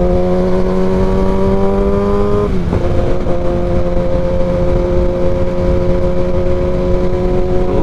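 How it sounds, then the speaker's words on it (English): A car engine fitted with a new exhaust drones loudly and steadily from the cabin, easing off briefly around a gear change before settling back into a sustained note; no one speaks. "Loving the new exhaust."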